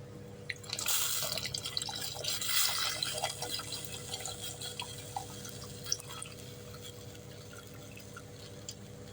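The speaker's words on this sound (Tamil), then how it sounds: "இப்போ ஒரு சின்ன எலுமிச்சம் சைஸு புளி ஊற வச்சுருக்கேன் இதை ஊற்றி" Soaked tamarind water is poured into a simmering white lady fish curry, giving a steady splashing, dripping flow that swells early and then eases into lighter trickles, close and moderately loud with no talking.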